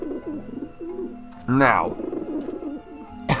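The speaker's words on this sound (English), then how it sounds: "these are the most viciousest bloody birds you're ever going to meet" Pigeons in Grim Fandango Remastered give soft, repeated coos, with a louder warbling call in the middle, while someone talks over them.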